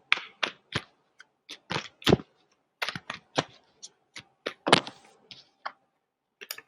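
Tarot cards drawn one by one from a deck, producing a series of crisp, close card snaps and flicks in uneven bursts with brief pauses between them.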